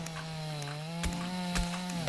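A chainsaw attack in the survival game Dinkum: a steady motor drone holds at one pitch for about two seconds, close and alone, with a few brief clanks breaking through.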